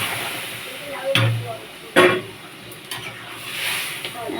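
Lentil dal with pointed gourd stirred in a pan, a few clanking spoon scrapes against the metal over a soft simmering hiss, close and moderately loud.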